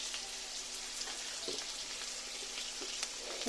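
Steady, quiet sizzling of prawns frying in a pan, with a few faint clicks and stirs.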